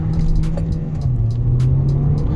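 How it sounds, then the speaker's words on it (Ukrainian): A 2020 Hyundai Sonata Hybrid 2.0 engine hums and rumbles up as the car accelerates from a standstill, a steady low drone rising slightly in pitch, heard from inside. "Тепер спробуємо від нуля до сотні, як вона буде їхати."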